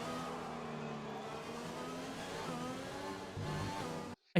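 An F1 car engine in the F1 2020 video game hums at a steady, moderately quiet level with a faint rising pitch, then cuts off abruptly near the end.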